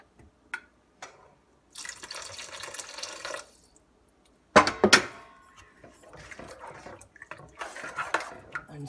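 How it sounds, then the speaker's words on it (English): Water is poured into a simmering dal makhani sauce in a cooking pot, with short splashy pours and clinks of a utensil between quiet gaps, close and moderately loud. "you can add more water."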